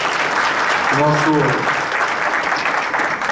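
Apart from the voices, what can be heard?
audience applause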